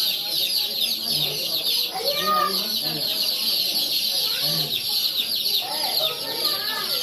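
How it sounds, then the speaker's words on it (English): Chickens and small multicolored chicks in Zabid, Yemen, clucking and peeping repeatedly at close range, with bright chick chirps layered over lower hen clucks and a busy background. "So we have all these little chicks here."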